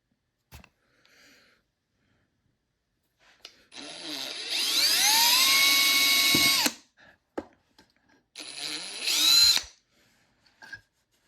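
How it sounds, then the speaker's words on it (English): A power drill whirs up to a high steady whine for a few seconds, stops, then runs again in a shorter burst, close and loud, drilling holes to extract a snapped-off screw. "We can set our holes, drill our holes,"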